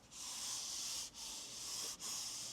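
A hand rubs steadily across interior trim and fabric inside a Polestar 3, a soft, close, breathy scraping swish in three strokes separated by brief pauses.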